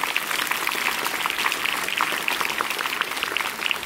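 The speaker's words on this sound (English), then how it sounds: "Please give a round of applause for the students." A school prize distribution audience claps for students, a steady crackling patter of many hands filling the room at moderate loudness without pause.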